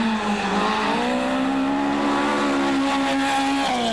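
A Ford BDA-engined rally car screams at high revs, its pitch holding steady and shifting slightly, loud and sustained throughout, at Rally Wairarapa.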